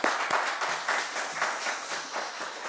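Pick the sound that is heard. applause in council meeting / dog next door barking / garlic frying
applause in council meeting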